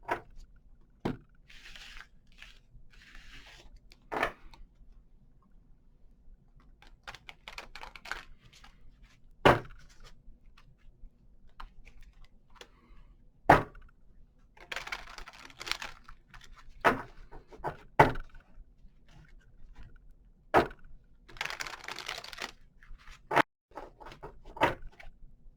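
Sharp papery snaps and riffling card flutters repeat irregularly over a quiet background, a tarot deck being shuffled and tapped close by.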